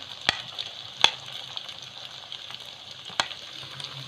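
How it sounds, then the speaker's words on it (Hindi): Chicken frying in a pan for chow mein, a soft continuous sizzle with a few sharp clinks of a utensil against the pan, close and fairly quiet. "ये हमारा चिकन अच्छे से भुन गया है, बहुत अच्छे से फ्राई हो गया है। और अब हम इसमें प्याज डालेंगे"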